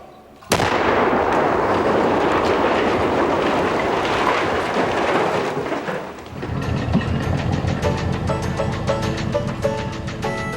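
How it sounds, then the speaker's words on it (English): An explosion blows apart a backwoods moonshine still: a sudden loud blast tears in and roars on for several seconds, then gives way to a rumbling, clattering aftermath of falling debris. "Then, Powell destroys the still. Fire in the hole!"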